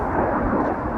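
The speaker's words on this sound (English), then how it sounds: "Sorry, I've been distracted by aeroplanes again." An aeroplane passing overhead at a hillclimb motorsport event, a loud broad roaring engine drone, steady and close, heard alone for a brief moment.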